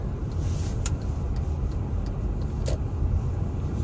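A car drives on a New York road in rain and falling snow, giving a steady close rumble of engine and tyres on the wet surface with faint ticking throughout.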